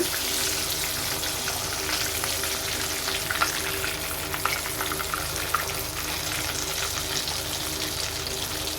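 Chicken pieces sizzle and crackle steadily in hot oil in a pan while being turned over, with faint scraping and clinks of a utensil, close and continuous without talk.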